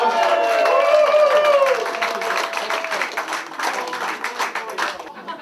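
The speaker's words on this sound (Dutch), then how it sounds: "Een dik applaus." A pub audience bursts into loud applause at an art auction night, dense clapping with cheers that peaks early and then gradually thins and fades.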